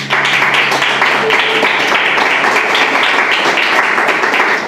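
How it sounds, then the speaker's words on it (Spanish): A church congregation applauds together after a Spanish-language sermon prayer, a dense, steady wash of clapping lasting the whole stretch with a low hum underneath. "Vamos a darle un aplauso a la palabra de Dios."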